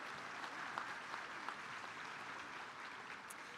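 An audience at the Kent County High School Class of 2026 graduation applauds, a steady wash of clapping from a large crowd that holds fairly even for a few seconds.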